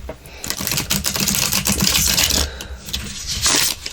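Chunky, thick tarot card deck being shuffled by hand, a quick run of close papery riffles, taps and scrapes in uneven bursts, with no talk over it.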